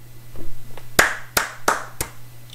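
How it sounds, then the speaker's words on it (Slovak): Four loud, sharp hand claps spaced roughly a third of a second apart, preceded by a couple of softer taps, with a steady low hum underneath and no talking. "Veľký potlesk na mňa"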